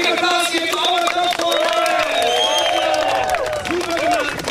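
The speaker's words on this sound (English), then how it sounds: "let's give a big applause here to our top" An outdoor crowd at the 2011 PWA windsurf World Cup prize ceremony in Podersdorf claps and cheers loudly and continuously, with whoops and voices mixed into the applause.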